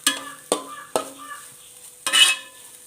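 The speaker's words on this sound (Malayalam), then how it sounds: "നെയ്യ് കിടന്ന് ഒന്ന് വഴറ്റി ഇതിൻ്റെ പച്ച ചുവയൊക്കെ ഒന്ന് മാറ്റിയെടുക്കണം" Grated coconut sautéed in ghee for kozhukatta, stirred with a few sharp scrapes of a spoon against the pan and a low sizzle between strokes, close by with no talk.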